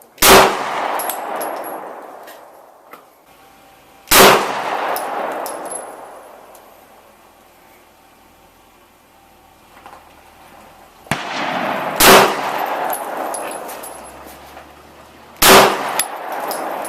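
Gunshots from an Arsenal AK, a CZ 82 and a Glock 19 strike a steel target at an outdoor shooting range. Five loud, widely spaced cracks each ring out with a metallic clang and a long decaying echo.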